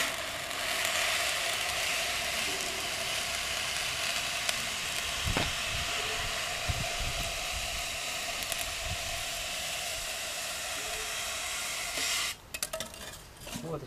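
A steady hiss of a hot wire coil slicing polystyrene foam into letters continues for a long stretch, with faint crackles and a few clicks near the end.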